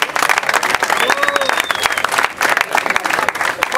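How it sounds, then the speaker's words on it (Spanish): Crowd applause at a youth 2-vs-2 final of the Elite Juniors competition, dense clapping filling the space throughout with cheers and shouting voices mixed in and a brief whistle-like tone rising above the noise. "vamos a dar un aplauso,"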